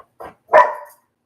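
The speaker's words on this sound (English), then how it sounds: "Doggy is barking." A dog, apparently one of the Dalmatians, gives two close barks in quick succession, a short soft yip followed by a louder, fuller bark, with silence around them.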